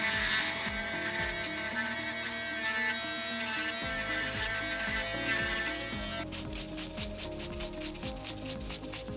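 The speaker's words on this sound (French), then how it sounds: "Avec mon embout à cuticule, je vais venir tout nettoyer le contour" An electric nail drill with a cuticle bit buzzes close up as it cleans around a nail during a gel X application. The steady whirring grinds against the nail, then turns into a rapid rhythmic pulsing.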